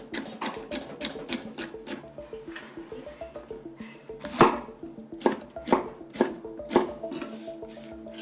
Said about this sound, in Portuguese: vou começar por cortar o pimento em juliana